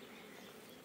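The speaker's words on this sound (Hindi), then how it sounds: "मधुमक्खी की जो कॉलोनी है वो" A strong spring colony of Asian honey bees (Apis cerana) hums in a faint, continuous buzz during hive division, with no voices.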